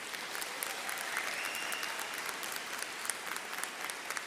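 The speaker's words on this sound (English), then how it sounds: "Can we please give Dr. Brandon Curry another round of applause" A high school graduation audience claps in a sustained, even round of applause that sounds fairly distant and soft, with no voices rising above it.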